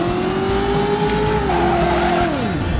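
Tires squeal loudly during a reverse 180 in the PS1 game Driver, a sustained screech whose pitch slides downward near the end over a steady engine drone, with no other sounds.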